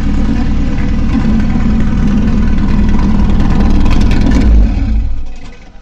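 A Nissan Skyline Japan with a 3.1-litre race engine on Weber 50 mm carburetors idles loudly with a rough, throbbing rumble, then cuts off abruptly near the end.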